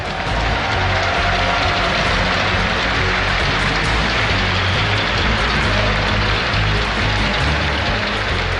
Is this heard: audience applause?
yes